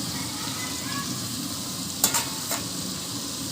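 Onions and green chillies sautéing in a large pot for veg biryani meant for fifty people, a steady close sizzle of frying with a couple of brief metallic scrapes from stirring.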